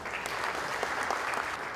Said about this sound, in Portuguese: Receba uma salva de palmas nesta manhã.